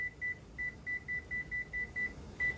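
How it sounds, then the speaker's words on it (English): A kitchen timer gives about ten short, evenly spaced electronic beeps in a steady rhythm, faint and alone in a quiet room, with one last beep after a brief pause. "I'm gonna set the timer for 10 minutes"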